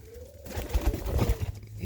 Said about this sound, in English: So this is the baby bird